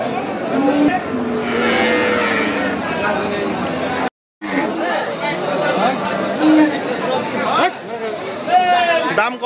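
Bulls lowing at a busy cattle market at Satmail, a few drawn-out moos rising above constant crowd chatter and bargaining voices, loud and close among the livestock.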